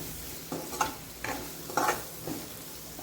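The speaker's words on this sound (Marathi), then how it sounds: "आपल्याला मिक्स करून घ्यायचं।" Spoon stirring coriander powder and turmeric in a pan before beans go in, a few soft scraping strokes over a faint sizzle, quiet and close with no voices.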